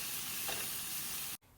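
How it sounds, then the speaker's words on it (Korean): Onions and carrots sizzle steadily in hot oil in a pan, a continuous frying hiss with soft stirring, until it cuts off abruptly near the end. "양파가 2분의 1 정도 볶이고 나면 딱딱한 순서대로 넣는데 당근부터 넣고 볶았습니다"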